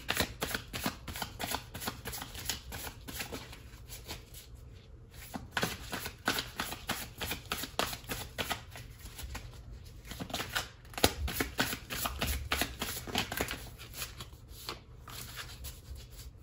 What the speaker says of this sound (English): I'm just gonna start shuffling in the front here.